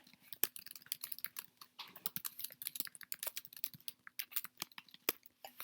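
Quick, uneven tapping of keys on a computer keyboard while a short message is written, a close, steady patter of light clicks with brief pauses and a faint background hum, no voices.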